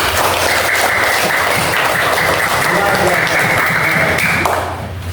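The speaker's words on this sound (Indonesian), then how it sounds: "Kasih tepuk tangan." Classroom applause for a child reciting Quran verses, a steady dense clatter of many small hands clapping at once, continuing for about five seconds over a faint background tone, then fading.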